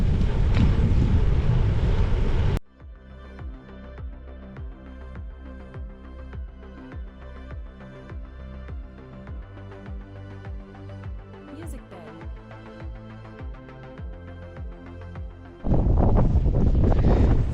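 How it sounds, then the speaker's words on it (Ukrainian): Loud, roaring wind buffets the microphone at the start and end during a bicycle trip in Cherkasy, with a rhythmic mechanical engine-like drone in between. "Дуже жорсткий вітер."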